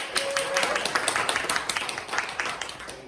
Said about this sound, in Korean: 더 에너지 넘치는 박수 한번